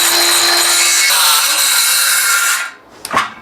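A small Ryobi battery-powered saw cuts through wood in one loud, close, continuous buzzing stroke lasting about two and a half seconds, then stops, followed by a short knock as the piece drops.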